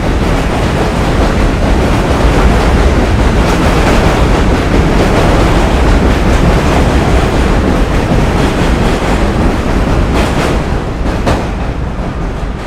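A New York City subway M train passes with a loud, continuous rumbling roar and rattle that stays steady for several seconds, then eases slightly near the end, with no talk.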